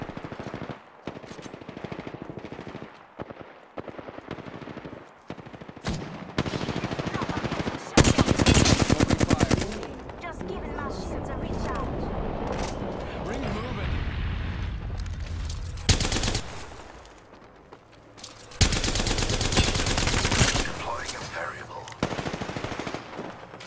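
Heavy automatic gunfire in the Apex Legends battle royale game, long loud bursts of rapid shots separated by quieter stretches, with game voice lines and other combat noise in between.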